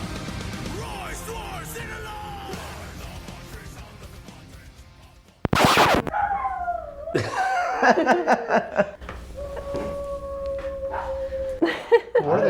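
Several dogs howl in long rising and wavering cries, with a brief loud burst midway, while people talk and react nearby.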